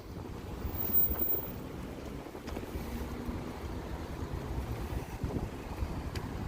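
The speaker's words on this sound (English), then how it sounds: "How dare that wind blow." Wind gusts roar against the microphone as a steady, loud, broadband rush on the Las Vegas Strip at night, with a brief stronger gust near the start.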